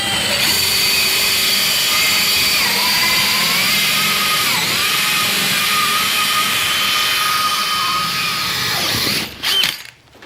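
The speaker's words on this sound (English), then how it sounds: "now I know exactly where to drill the hole for this box." A power drill bores a hole for an electrical box in a wall during second-floor lighting work, a loud, close, sustained whine with small pitch dips, cutting off abruptly near the end.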